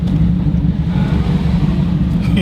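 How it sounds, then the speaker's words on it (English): A Ford Ranger engine revving outdoors, a loud, deep rumbling roar that holds steady and close with some wind buffeting the microphone. "I gotta rev this Ranger"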